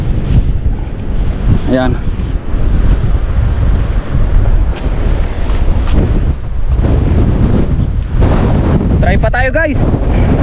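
Strong wind roars and buffets loudly and continuously, with voices talking briefly over it.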